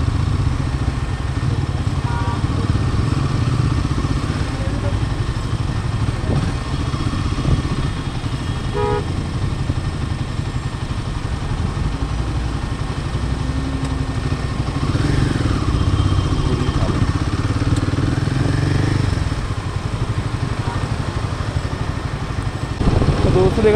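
A Royal Enfield Himalayan 450 motorcycle's raw exhaust on a hot morning ride, a steady engine drone with road noise and a brief horn toot, continuous and fairly loud throughout.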